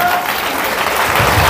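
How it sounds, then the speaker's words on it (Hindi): An audience claps together at a Hindi-language religious sermon, a dense burst of many hands applauding steadily and fairly loud. "ताली बजा के"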